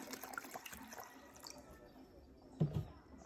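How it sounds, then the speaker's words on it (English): Water is poured into a pot of Jamaican cornmeal porridge, a faint, quiet trickle and splash with a louder slosh near the end, heard up close in a kitchen. "Add some water."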